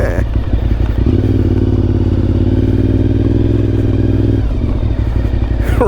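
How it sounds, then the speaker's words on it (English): A Honda RC51 motorcycle engine runs loud and close, a steady throbbing rumble that builds and holds, with some clatter over rough grass and gravel. "it sounds amazing. That's the #1 reason I bought this motorcycle"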